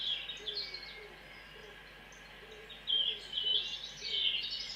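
Birds sing in the trees with bright, quick chirps and warbles that come in short bursts, pausing briefly before a livelier run near the end, over a soft, steady background hum.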